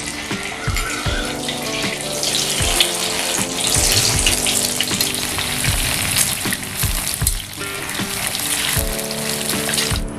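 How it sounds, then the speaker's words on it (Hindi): Cauliflower pieces for gobi 65 deep fry in hot oil with a steady, bubbling sizzle, broken by regular soft knocks and stirring, close and loud with no voices. "यहाँ पर गोभी को डीप फ्राई करके रेडी कर लिया है"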